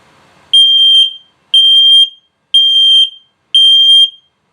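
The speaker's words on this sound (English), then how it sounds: "Okay, and now low battery alarm" A gas detector in a 2022 Starcraft Super Lite 242RL RV gives its low battery alarm: four loud, high-pitched electronic beeps, each about half a second long, evenly spaced roughly one second apart, sounding alone after a faint crackle.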